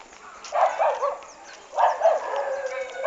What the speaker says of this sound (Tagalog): Kagahabulin ka ng aso dyan.